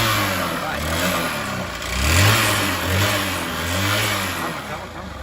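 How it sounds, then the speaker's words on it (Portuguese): A motorcycle engine with a worn cylinder kit revs up and down several times, a loud, close mid-pitched drone swelling and easing with mechanical noise running through it. "Mas o barulho maior aí é o kit cilindro."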